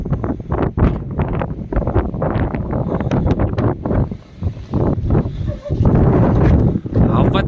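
Strong wind buffets a hilltop house under construction at Ghoom, Darjeeling, roaring in loud gusts against the microphone while a person talks through most of it.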